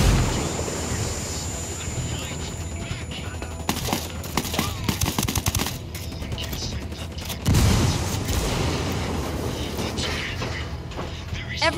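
Gunfire and grenade blasts in the Ghost Recon video game on a Bolivian battleground: sharp rapid bursts of automatic fire cluster in the middle, with a heavier blast near the end over a constant background din.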